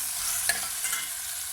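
Chopped onion sizzling in hot oil for a stew of dried aubergine, with a steady close frying hiss and a brief clink and scrape as a spoon stirs it.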